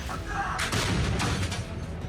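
Artillery fire from a Western-supplied gun on a Ukrainian front line, heard as a broadband rumbling roar with a few sharp blasts, loud and continuous over the short span, with no speech.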